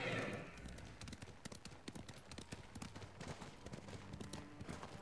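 A horse in the video game Ghost of Tsushima gallops, hooves clip-clopping in a fast, steady rhythm, close and continuous, with rustling noise and a brief louder burst at the start.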